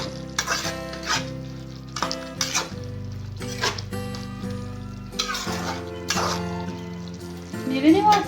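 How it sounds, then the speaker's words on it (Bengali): A spatula scrapes through chicken kosha in a pan after coriander leaves are scattered on top, giving a few separate stirring strokes over a soft sizzle, with strong tonal background music running throughout. "ধনেপাতা ছড়িয়ে দেওয়ার পর আমি সামান্য একটু নেড়ে নেব"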